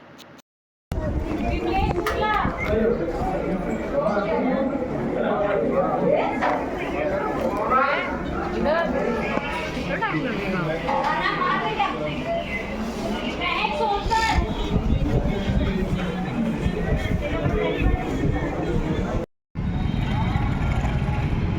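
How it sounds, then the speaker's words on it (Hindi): Dense crowd chatter fills a busy Aadhaar card office, many overlapping voices including children close and far, with a constant murmur, shuffling and traffic-like rumble beneath, cutting off briefly near the end. "चलिए आपको दिखाती हूँ कि आधार कार्ड के ऑफ़िस में कितनी भीड़ होती है।"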